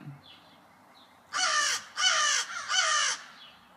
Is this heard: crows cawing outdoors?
yes